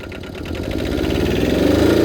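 A diesel quad engine runs in low range, a close, loud, rapid pulsing chug that rises slightly in pitch as it revs up over a couple of seconds.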